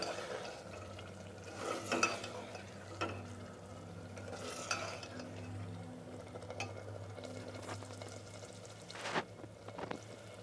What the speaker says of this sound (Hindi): और हम इनको अच्छे से हिला देंगे।